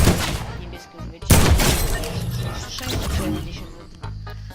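Gunfire from the Fortnite video game, bursts of shots layered with game effects and speech-like sounds through much of the stretch, loud and dense.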